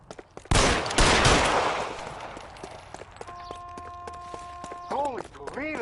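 Gunfire in L.A. Noire, a sharp burst of shots echoing through the scene, followed by footsteps and other game sounds while a voice speaks.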